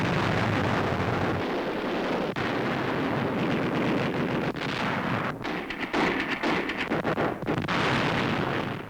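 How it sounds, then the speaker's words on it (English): An archival WWII newsreel battle scene at Tarawa in the Pacific: dense, loud rumbling roars and blasts, suggesting flamethrowers, hand grenades and gunfire, with sharp cracks breaking through a continuous, heavy din. "Japanese positions scorched by flamethrowers. Machine gun nests wiped out by hand grenades."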